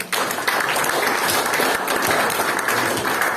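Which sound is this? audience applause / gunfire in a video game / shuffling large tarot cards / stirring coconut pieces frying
audience applause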